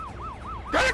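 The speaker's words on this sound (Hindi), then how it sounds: "पुलिस की गाड़ी" A police car siren wails in steady rising and falling sweeps, fairly close, then swells into a louder, harsher burst at the very end.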